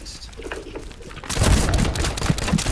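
Close pistol gunshots from a 1911 in the video game Hell Let Loose, a burst of sharp cracks over a tense in-game battle soundscape, loud and clustered near the end.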